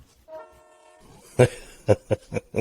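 A sustained train horn blast, then several sharp loud thumps in quick succession, fairly close and standing alone without talk.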